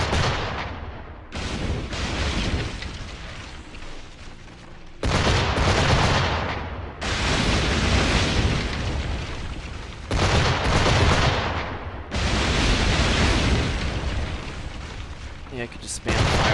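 Fire barrels burst in Assassin's Creed 4: Black Flag naval combat, several heavy booming blasts with long rumbling tails recurring every few seconds and filling the clip.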